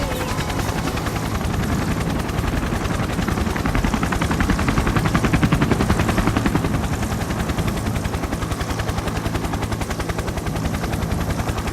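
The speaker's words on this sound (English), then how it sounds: "What's this helicopter doing here?" A helicopter's rotor in the video game Persona 4 Arena Ultimax chops steadily and continuously, a loud, even thudding beat that holds throughout.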